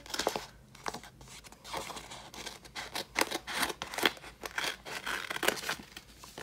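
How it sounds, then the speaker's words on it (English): Scissors snip through planner sticker sheets to cut out a square for a 4th of July layout in a Classic Happy Planner: a run of close, crisp cuts and papery crinkles in an irregular rhythm, with no voices. "I think I may just cut this whole square out to make it a little bit easier."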